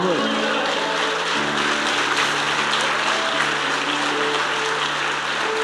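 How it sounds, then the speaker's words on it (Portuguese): Church congregation applause during a Sunday evening service, broad sustained clapping from a crowd over a low held organ or keyboard chord that shifts pitch, steady in loudness throughout. "Alguém dá um aplauso ao Senhor, né?"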